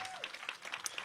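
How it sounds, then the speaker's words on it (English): An audience applauds at the unveiling of a Betty White postage stamp, a steady wash of many hands clapping at moderate distance, filling the whole short moment. "Round of applause for all of them right now, everybody,"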